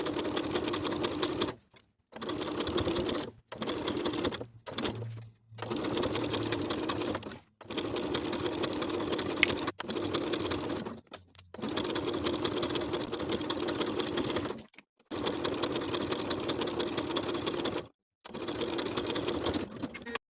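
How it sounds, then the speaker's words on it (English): A sewing machine stitches a facing onto a boat-neck sweater neckline in several fast, loud runs of whirring, separated by short pauses, close up with no voices. "Sew or serge the facing to the neckline with a 3/8 inch seam allowance."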